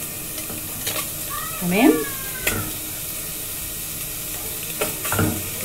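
Pieces of meat dropped into a hot pot give a brief sizzle among scraping and clatter, with a short spoken word and a few sharp knocks of utensils.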